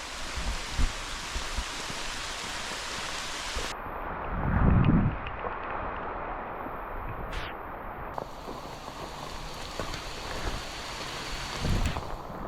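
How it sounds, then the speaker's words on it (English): Steady, loud rain pattering on a poncho while hiking a wooded trail, a dense continuous hiss close to the ear with occasional thumps and rustles of movement, no talking. "Really kind of like hiking in the rain though. It's so loud."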